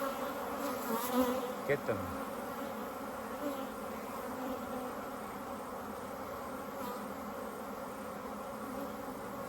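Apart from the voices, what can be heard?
bees buzzing as they fly off during hive inspection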